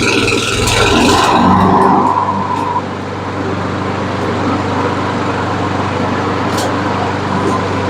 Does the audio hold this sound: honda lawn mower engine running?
yes